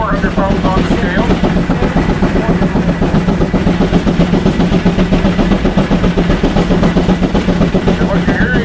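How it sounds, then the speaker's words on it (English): A classic tractor engine runs hard under load on a dyno, about 72 horsepower, with a steady loud rhythmic chugging and slight punching in its beat throughout. "the engine is what we call punching a little bit"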